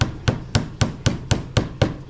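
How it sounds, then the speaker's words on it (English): Hammer strikes driving pins into thick cork bark, eight sharp, evenly spaced knocks in a brisk steady rhythm, each ringing briefly before the next, close and loud with no talking. "So I'll go around and hammer them all in"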